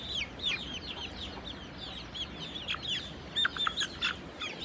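Chickens and a rooster in a coop, including Thai-feathered birds, clucking and chirping in a busy overlapping chorus, with sharper calls near the end over steady background noise.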